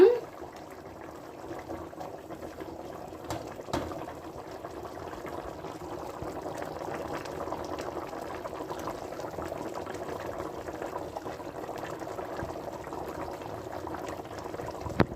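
A pot of fish curry with gravy bubbles at a steady simmer, a continuous close boiling hiss with small pops throughout and a couple of faint clinks.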